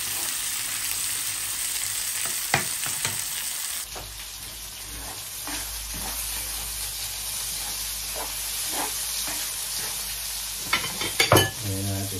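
Sausages frying in a pan at a home dinner, a steady close sizzle and hiss with occasional stirring clicks and scrapes, running alone throughout and louder bursts of spatter near the end.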